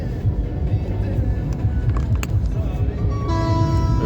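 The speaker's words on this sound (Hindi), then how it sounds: "बहुत ट्रैफिक है।" Heavy road traffic at the Alipur border in Delhi rumbles loudly and steadily, with engine drone throughout and a sustained car horn sounding near the end.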